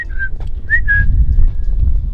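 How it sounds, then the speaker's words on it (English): A person whistles a few short, clear notes, rising and then holding steady, over a low rumbling outdoor background. "You can whistle back. Whistle."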